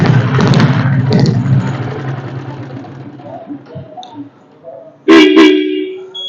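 A loud, steady battery horn blast from a vintage Royal Enfield diesel Bullet motorcycle sounds near the end, following a stretch of engine idling and quieter mechanical noise.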